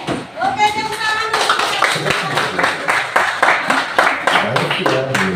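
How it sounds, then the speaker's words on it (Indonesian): A class of schoolchildren claps their hands in a steady rhythmic pattern, loud and close, with young voices mixed in throughout. "Oke, tepuk tangan."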